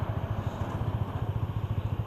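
A motorcycle engine idles close by with a steady, rapid low putter. The pulses are even and loud throughout the short stretch, with no voices.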